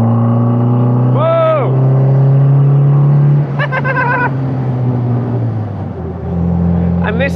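An Austin-Healey sports car engine drones steadily while driving, a loud, close, low hum with a couple of short shifts in pitch, and a few brief higher sounds over it.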